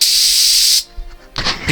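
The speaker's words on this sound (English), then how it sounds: "spray enough to release air. Not paint, just air." A paint spray gun, pressure raised, blows only air on a car job: a loud, steady hiss that cuts off sharply, leaving quiet, then a second short burst of air starts.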